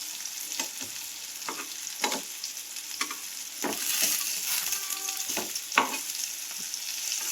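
Masala sautéing for a jitada fish curry, a steady close sizzle with repeated scraping stirs of a spoon against the pan at irregular intervals, no voices.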